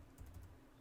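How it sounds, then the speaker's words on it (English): Fingers typing on a computer keyboard while entering a command during Windows 11 setup, a short, soft burst of close keystrokes with no talk. "we're going to type in here in all caps"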